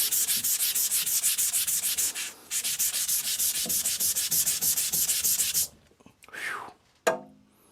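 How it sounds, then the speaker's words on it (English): Steel blade ground back and forth across a vitrified sintered diamond whetstone, close, loud gritty rasping strokes in a fast steady rhythm, briefly pausing once, then stopping before a couple of short wet scrapes. "Just watching me grind, because I really want to do the work on that other one."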